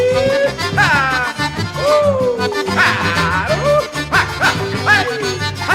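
A dog barks and yips several times through a 1979 Brazilian vaquejada country song, and the barks are mixed in with the music and the singing voices.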